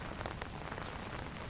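Steady wash of rain falling in the visual novel game Doki Doki Downpour, a dense, even hiss of drops on surfaces that stays constant throughout with no talking.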